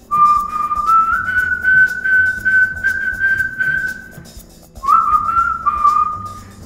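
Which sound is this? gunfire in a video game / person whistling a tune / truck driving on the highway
person whistling a tune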